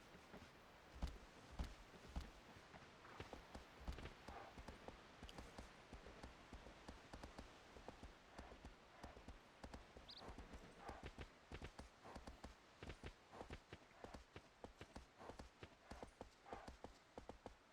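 Horse hooves clip-clopping at a steady walking rhythm through a forest in Shadow of the Colossus, quiet, even footfalls continuing throughout with faint ambient noise.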